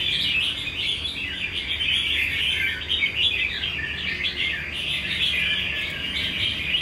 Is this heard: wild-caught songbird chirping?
yes